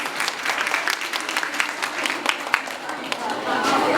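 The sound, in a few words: audience applause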